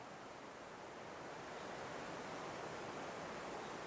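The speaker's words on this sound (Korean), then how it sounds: "이래 보면은 지금 물소리가 올라오잖아요" A mountain stream near a small hermitage flows in a steady, faint broadband rush of water, continuous and unchanging with no voices.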